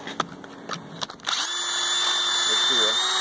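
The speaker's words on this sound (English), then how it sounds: "You drill this little bit, takes that thing off, and then out it comes." A power drill bores out rust from a brake line fitting on a Lincoln Navigator, starting after a few clicks and knocks and then whining steadily and loudly up close, with a voice speaking over it.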